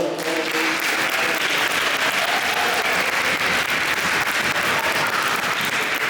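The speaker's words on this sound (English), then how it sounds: "how about one more round of applause for all the" Sustained, dense applause from a junior high winter band concert audience fills the hall at a steady level for six seconds, many hands clapping at once with no voices standing out.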